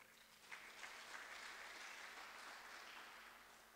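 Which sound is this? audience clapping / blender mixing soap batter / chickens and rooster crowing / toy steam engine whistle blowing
audience clapping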